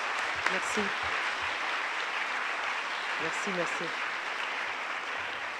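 Sustained audience applause after a literature lecture, a dense even clapping wash filling the hall, with a speaker briefly saying thanks over it.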